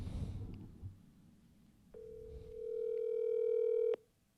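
An outgoing phone call rings unanswered: after a stretch of quiet room noise, one long, steady electronic ringback tone sounds clearly for about two seconds, then cuts off.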